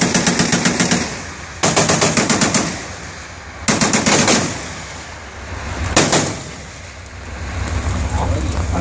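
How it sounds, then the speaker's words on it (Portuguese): Rapid bursts of gunfire at a Brazilian Army divisional artillery command range, one shot striking grenade shrapnel; three loud volleys with sharp onsets and ringing decay between them, voices faintly talking underneath. "Aquele lá é o tiro que pegou em algum estilhaço de granada, alguma coisa assim"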